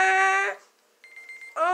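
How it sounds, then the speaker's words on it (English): A loud electronic alarm buzzer ends a Monster Jam freestyle run, sounding as a harsh sustained tone, a brief gap with a thinner pulsing beep, then the buzzer again. "hit that alarm"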